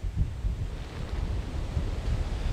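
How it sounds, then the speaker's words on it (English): Ferocious hurricane wind near the coastline buffets the microphone in loud, gusting low roars, surging and easing continuously with no voices heard. "some really ferocious wind hitting us right now about a block inland from the coastline"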